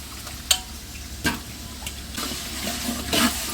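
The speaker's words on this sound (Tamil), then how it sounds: "உருளைக்கிழங்கு கொஞ்சம் நேரம் வதங்கட்டு" Potatoes sautéing with onion and tomato in a pan for a village-style dry fish curry, a close sizzle broken by several sharp scraping stirs, with no voices.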